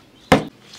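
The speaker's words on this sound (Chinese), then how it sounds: "鸭血切片" A knife slicing through a block of duck blood, one short soft chop against a board, close and alone.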